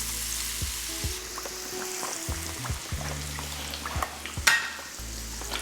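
Breaded chicken fries in oil at about 350 degrees, a steady close sizzle with bubbling crackle and a few louder pops and stirring sounds.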